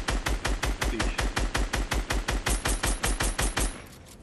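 Automatic gunfire in a shooter video game: a fast, steady burst of around twenty evenly spaced loud shots over several seconds, then an abrupt stop with a brief fading tail.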